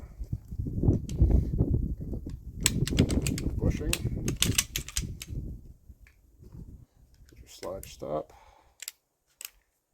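Metal parts click and snap as the slide is fitted onto a MAC 1911 DS pistol, close-up clacks and rattles, with someone talking quietly through the first half.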